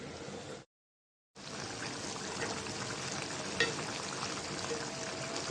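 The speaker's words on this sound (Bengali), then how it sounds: "দিয়ে দিলাম ঢাকনাটা একটু দিয়ে রাখলাম সিদ্ধ হোক বেগুন" Hilsa fish and brinjal simmer in a covered pan with a steady bubbling, frying hiss that drops out briefly and then resumes at constant level.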